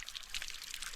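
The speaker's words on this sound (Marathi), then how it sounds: "तर अशा प्रकारे यात पाणी भरला जातो." Water poured into a pipe beside a river, a short, steady gush of pouring that is fairly close and continuous.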